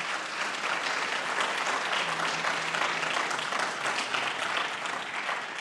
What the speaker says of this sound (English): How about another round of applause for our awardees this evening?